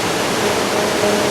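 A fast-flowing mountain river on the Kedarnath trek roars as a dense, continuous rush of white water, close and loud with no voices.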